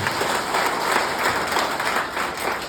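An audience claps loudly and continuously in response to a speech, a dense wash of many hands swelling in waves across the whole stretch.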